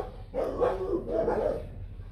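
A fluffy white Vietnamese native Bac Ha dog gives two short, close barks or yelps in quick succession, with no talk.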